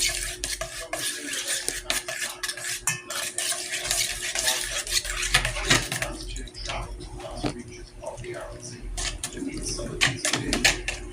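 Coke, salt and dishwashing liquid are stirred in a frying pan, with repeated scraping, sloshing strokes running continuously and fairly close, sometimes louder, with no speech over them.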